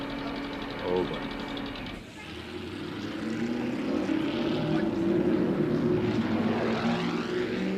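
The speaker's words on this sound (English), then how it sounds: "That was a jet airplane." A jet airplane passes overhead, a broad roaring rush that swells and sweeps in pitch as it goes by, loud and continuous.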